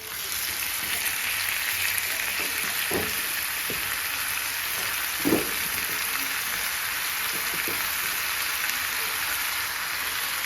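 Chicken pieces frying on a tawa with masala and onions, a constant close sizzle with a few soft scraping stirs and clinks, no talking.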